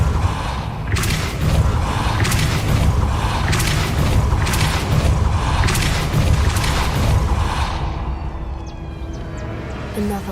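Repeated spell impacts from the Depulso force-push spell in Hogwarts Legacy, a series of loud booming thumps roughly every second over a dense, steady game background, with no talk.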